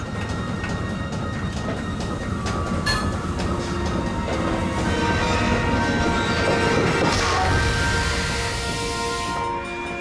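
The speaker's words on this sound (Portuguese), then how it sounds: "A carga de Matarazzo está sendo trazida a São Paulo pelo funicular, um trem puxado por cabos." Cable-pulled funicular train in São Paulo rolls along steadily, with a continuous rumble of wheels and carriages, faint rhythmic clatter and occasional metallic squeals, close and sustained without speech.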